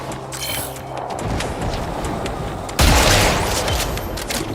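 A loud explosion erupts in the Warframe video game after a stretch of rapid gunfire-like crackling, the blast arriving as a sudden dense burst of noise that sustains to the end.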